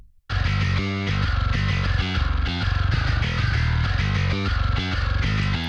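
Raw, unequalized metal mix from a mixing plugin for a heavy band track: dense, loud, continuous distorted guitars and pounding low drums, with a full sustained wall of sound after a brief quiet start.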